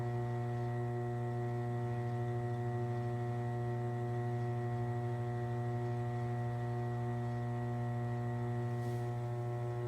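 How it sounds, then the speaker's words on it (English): A pottery wheel spins slowly while a noodle bowl is thrown, giving a steady, even electric hum that runs unbroken throughout, with no talking. "this time you can spin your wheel a little bit slower."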